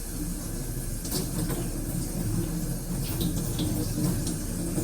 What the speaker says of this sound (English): I'm going to rinse off my hands thoroughly